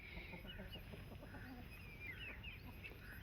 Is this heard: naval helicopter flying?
no